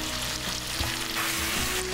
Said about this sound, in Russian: Тушим мясо на медленном огне еще минут 15.